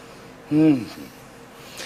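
A single sharp sneeze from someone at a kitchen cooking show after spice went up the nose while working with sage and bay leaves. It is a short voiced burst, close and fairly loud, followed by quiet room tone.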